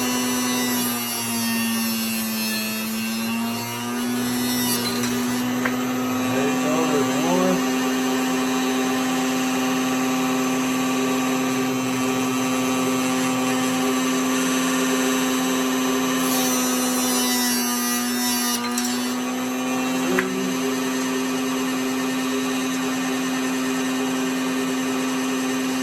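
Plugged-in power tool cutting arrow shafts, a steady loud whine held for over twenty seconds, with rubbing bursts where the blade bites into the shaft, no talk.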